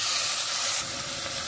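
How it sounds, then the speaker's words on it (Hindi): Water hits a hot pan of frying onions and garlic, giving a loud, steady sizzling hiss that drops slightly partway through. "तो अब हम इसमें पानी डाल देते हैं।"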